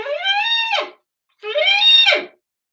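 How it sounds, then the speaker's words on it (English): Two trumpet horse-whinny effects played with half-valve, each a bright nasal slide rising through partials then shaking and dropping off, about a second long with a short silent gap between, close and loud. "And then you shake your trumpet to make it sound like a horse is neighing."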